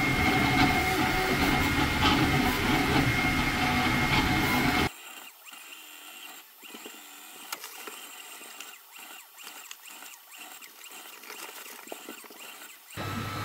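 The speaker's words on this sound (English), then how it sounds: "Okay, it's done printing." Creality Ender 3 V3 3D printer running a fast Benchy print in hyper PLA, giving a loud steady whir with rhythmic mechanical ticking that cuts off abruptly, leaving quieter faint clicks and movements before rising again at the end.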